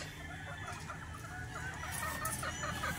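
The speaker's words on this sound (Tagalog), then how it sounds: "So ayan mga idol, ito yung napili namin pullet." Pullet chickens, White Kelso cross and Maclean Hatch, at a game farm, clucking and murmuring steadily in a continuous flock chorus with a few higher calls rising near the end.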